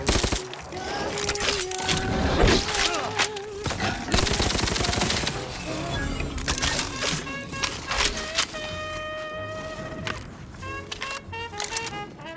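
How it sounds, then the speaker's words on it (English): SMG bursts in The Outer Worlds 2 come as loud rapid volleys mixed with tonal game effects and other sounds, with several dense bursts. "Yeah, I like the SMG. Feels so nice."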